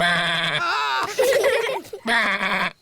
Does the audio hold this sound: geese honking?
no